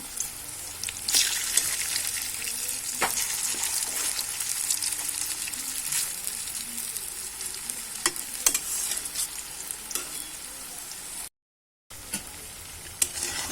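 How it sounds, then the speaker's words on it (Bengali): Lentil fritters (bara) sizzle in hot oil while being turned, a steady crackling fry broken by sharp clicks and scrapes of the utensil against the pan, with a brief gap of silence near the end. "আমি পাল্টি পাল্টিয়ে বড়াগুলো বেজে নিলাম"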